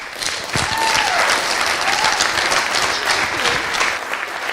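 Wedding guests clap and cheer for the father of the bride after his speech, dense steady applause filling the room for several seconds.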